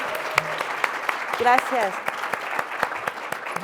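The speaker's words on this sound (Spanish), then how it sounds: "Les pido que le den un fuerte aplauso, por favor" An audience at a book presentation for Sofía Segovia's 'De lector a escritor' at the FIL Guadalajara book fair applauds steadily, a dense, moderately loud patter of many hands, while a speaker briefly talks over it.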